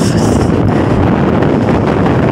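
Heavy gusts on an Idukki hilltop pound the microphone in a steady, loud, rumbling roar with no voices.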